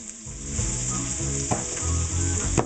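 Onions sizzle and fry in a hot pan, a steady bright crackle with a few louder spits and stirring knocks, close up and with no talk.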